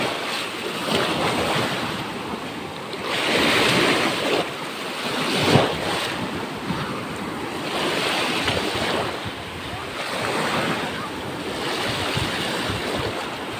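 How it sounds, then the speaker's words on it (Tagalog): Large ocean waves surge and break in steady rolling washes, with wind buffeting the microphone throughout and no voices. "medyo malaki po yung alon"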